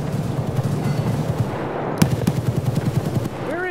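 Rapid gunfire in the shooter game Escape From Tarkov, a dense burst of close, repeated shots with one louder crack partway through.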